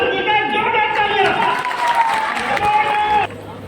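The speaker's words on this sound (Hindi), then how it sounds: "गाजीपुर के रहने वाले नजरुल हक जी का जोरदार तालियां" An audience claps and cheers as a network-marketing achiever is welcomed on stage, the applause running beneath a loud, sustained tonal sound and crowd voices before cutting off abruptly near the end.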